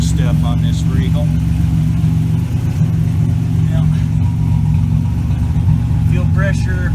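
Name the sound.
1987 Buick Regal Turbo T engine idling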